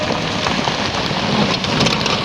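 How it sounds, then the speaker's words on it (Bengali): Heavy rain pours steadily in a dense, even hiss, close and loud throughout, with no voices. "প্রচুর বৃষ্টি"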